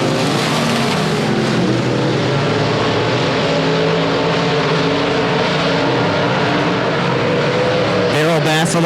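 Race cars at Leesville 171 Speedway during the 2016 Bayou Bash, their engines roaring loudly and continuously close by with shifting pitches as they lap, and a commentator talking over them.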